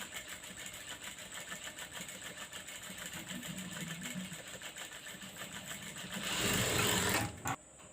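Electric sewing machine running steadily while gathering pleats into fabric for a baby frock, a close mechanical whir that grows louder near the end before cutting off.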